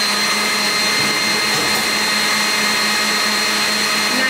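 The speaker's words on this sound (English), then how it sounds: "bring it up to a high speed, and whisk it through" An electric mixer runs at high speed through a raspberry pavlova meringue, a loud, unbroken motor whine with a low hum held steady from start to finish, and no one speaks.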